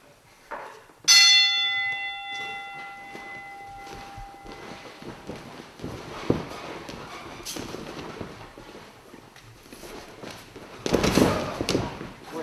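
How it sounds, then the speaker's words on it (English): A bell is struck once at a sports camp, giving a loud clear clang that rings out and decays over a couple of seconds, followed by rustling, thumps and background voices. "You gonna ring the bell?"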